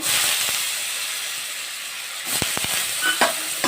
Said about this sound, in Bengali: একটা ছোট সাইজের আলু এখন আমি লবণ হলুদ দিয়ে ভেজে নেব